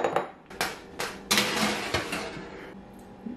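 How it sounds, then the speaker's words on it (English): A pan of dehydrated pasta going into a home oven, with several sharp metallic clanks and knocks from the pan and oven rack, spaced unevenly and then fading to quiet. "So we're going to stick that in the oven and start the dehydration process."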